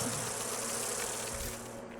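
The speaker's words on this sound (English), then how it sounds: "They were bees." Bees in the video game Dragon Age: Inquisition buzz in a steady, dense drone that holds evenly throughout and stays close and fairly loud.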